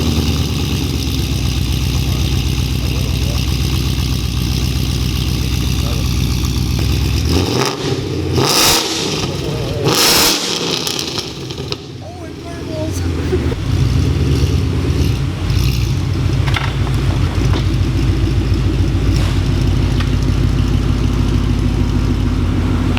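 A 2016 Mustang GT with long tube headers, catless, and an MBRP Street catback exhaust revs loudly and continuously up close, its deep rumble briefly dipping in the middle before swelling back to a steady roar.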